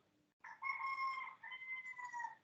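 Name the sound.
rooster crowing in the background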